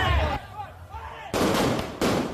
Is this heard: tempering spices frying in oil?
no